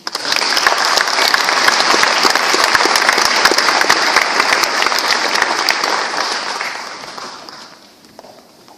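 An audience at a graduation ceremony claps in a sustained burst of dense applause that holds steady for several seconds, then fades out toward the end.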